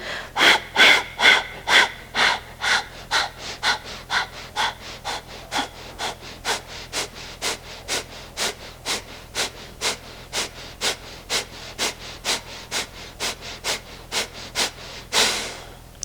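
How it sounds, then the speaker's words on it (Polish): Kapalabhati, the rapid yogic breath of fire: a long run of sharp, forceful nasal exhalations in a fast even rhythm, close and loud, about two per second, ending with one longer deeper breath. "Puszczamy wdech i wydech."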